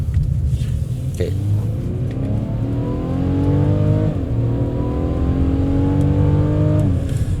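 A Mercedes E300 on 19-inch Bridgestone Turanza 6 tyres (245 front, 275 rear) accelerates hard, its engine note climbing steadily through repeated gear changes, loud and close, with a brief spoken word near the start.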